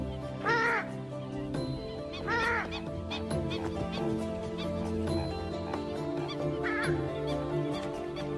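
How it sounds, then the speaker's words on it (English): A purple swamphen repeatedly gives loud, harsh, explosive honking calls in bursts, outdoors, with other birds calling faintly in the background. "the purple swamp hen, also called the sultana bird, famed for its very loud, explosive call"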